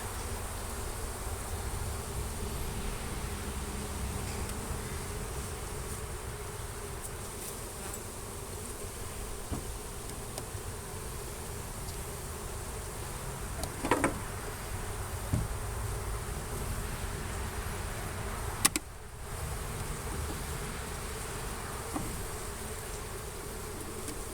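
Honeybees hum in a steady, continuous swarm drone during a honey harvest, with occasional louder passes as individual bees fly close by.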